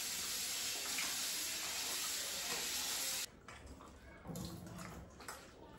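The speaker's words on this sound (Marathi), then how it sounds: "मटण साफ करून घेऊया आणि स्वच्छ पाण्याने धुवून घेऊया" Water runs steadily over half a kilo of mutton being rinsed clean, a soft continuous splashing rush that stops abruptly, followed by quieter intermittent splashes and handling sounds.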